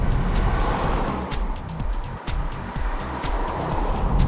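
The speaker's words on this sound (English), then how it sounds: "Now I'm driving the vehicle equipped with the Kumho Ecsta LX Platinum." Car on Kumho Ecsta LX Platinum all-season tires driving on the road, a continuous low tire roar with rhythmic thumps from road joints, close and steady, with no talk.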